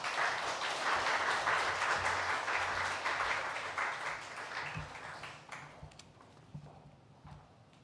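A church congregation at a Sunday service claps to welcome a missionary, dense applause that holds steady and then gradually thins and fades away.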